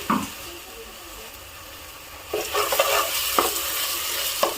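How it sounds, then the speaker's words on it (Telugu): Ginger garlic paste fries in a pan for bagara rice, a steady close sizzle broken by several scraping stirs of a spoon against the pan in the second half. "ఈ అల్లం వెల్లుల్లి పేస్ట్ పచ్చి స్మెల్ పోయేంత వరకు వేయించుకోవాలి"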